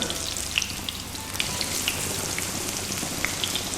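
Unniyappam batter frying in oil in a paniyaram pan over medium heat, a steady bright sizzle with scattered small pops and crackles, close and continuous.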